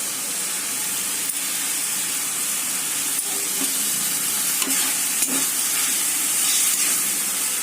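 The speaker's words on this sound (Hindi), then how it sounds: "एबे हमें मसला को भले से कषी दबा एबे हमें तादे टमाटर पकेया" Masala and tomatoes fry in a pan for an Odisha-style chicken and potato curry, a steady close sizzle and hiss with occasional stirring scrapes and clinks throughout, no voices.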